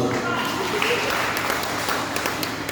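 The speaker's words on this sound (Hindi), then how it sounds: "ताली मारो" Audience applause at a memorial evening event honoring martyrs, a steady dense wash of clapping that continues throughout, with faint voices mixed in.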